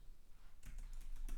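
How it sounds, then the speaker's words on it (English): Computer keyboard typing while entering code for a Flask web app database configuration, a quick burst of close, crisp key clicks starting partway in and continuing to the end, with no speech. "just I'm here, I'm typing config"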